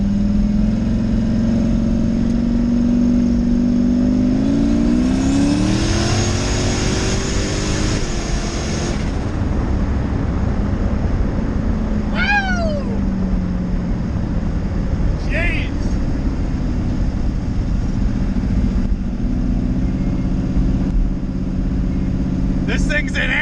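A Chevy-powered Mustang (Chevstang) on 26x9 rear tires revs hard and accelerates in second gear, its loud engine note climbing steeply for a few seconds before easing into a steady rumble, with a high whine and brief chirps later.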